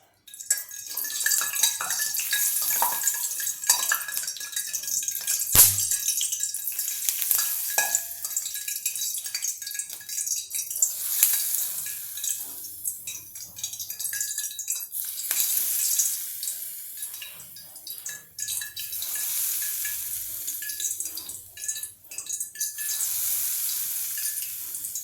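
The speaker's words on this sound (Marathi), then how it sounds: "ही गरम तेलाची कढई मी तुमच्या समोरच आणली आहे आणि हे लोणचं इथेच आहे." Jackfruit pickle sizzles and crackles in a wok of hot oil while it is stirred, with a spoon scraping and clinking against the metal now and then over a continuous close frying hiss.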